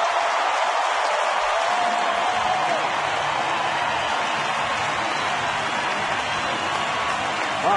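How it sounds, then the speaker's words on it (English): A baseball crowd at a Cleveland at Minnesota game roars and cheers after a two-out triple, a loud, sustained wash of noise from a large stadium audience, with a commentator's voice faint beneath it. "Crowd on its feet."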